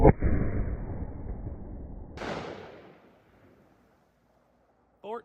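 A single sharp .44 Magnum revolver shot fired with a 240-grain XTP load, a loud close crack with a booming decay lasting a few seconds, followed by a brief faint rustle.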